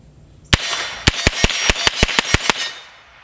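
Eleven sharp, ringing impacts of .22LR rifle rounds, fired through a CMMG conversion kit, striking an AR500 steel target at 10 yards, spaced irregularly with a short pause after the first hit, loud and close.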